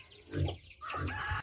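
A hen clucks softly in two short bursts, with faint chirps from her chicks above, heard up close in a quiet outdoor yard.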